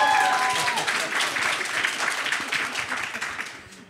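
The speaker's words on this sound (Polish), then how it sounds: "Gorące brawa, pewnie jakaś reprezentacja uczelni jest na pewno." An audience at a conference session on universities and companies gives loud, dense applause that fills the room, with a voice faintly underneath, then gradually tapers off.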